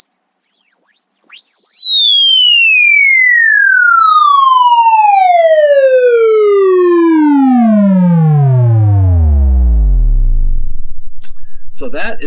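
A tone generator sweeps a loud, steady tone smoothly downward from a high whistle to a deep low hum over about ten seconds, with brief noise at the end.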